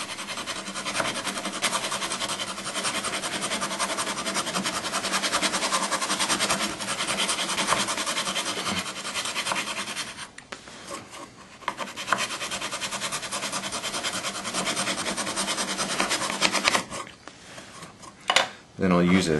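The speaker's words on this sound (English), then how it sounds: "And I'll just sand it down a little bit." Sandpaper rubbing over a wooden organ pipe block, a steady, close scratchy rasp running almost continuously with brief pauses and shifts in stroke.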